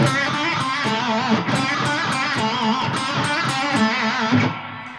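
Electric guitar playing a quick blues-rock run of short, choked notes, each cut off with a tiny gap, steady and moderately loud.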